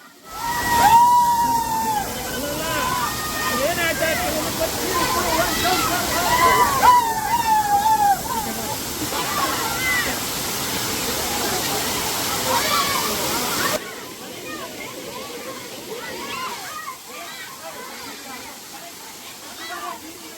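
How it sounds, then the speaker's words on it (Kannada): Water at Hidden Falls near Madhugiri, Tumkur, rushing with full force as a steady broadband roar, heard under people talking and quieter toward the end. "ಫುಲ್ ಫೋರ್ಸಾಗಿ ಬರ್ತಾಯಿತ್ತು ನೀರು."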